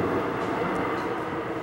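Subway train rumbling as it pulls away from a platform late at night, a steady, loud, close roar of the cars with no pauses.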